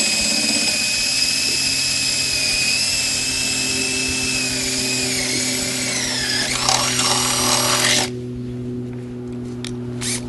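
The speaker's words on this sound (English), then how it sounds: "so I'm just going to drill it out." A power drill bores a hole in a part for a 2009 Polaris Dragon 800 snowmobile, a steady high whine holding for about eight seconds then dropping as the motor stops, close and alone.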